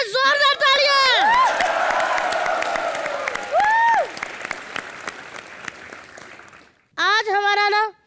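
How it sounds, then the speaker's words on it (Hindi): A television studio audience at a comedy show applauds loudly and steadily, with whoops and cheers rising over the clapping before it fades, then a short burst of cheering returns at the end. "चिंटू शर्मा, जोरदार तालियां।"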